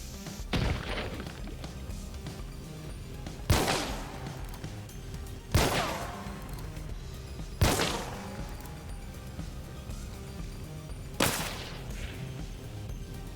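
Gunfire in Hunt Showdown aimed at red barrels sitting inside a choke bomb cloud: five sharp, loud shots spaced a few seconds apart, each dying away quickly with no following blast, over low background game ambience.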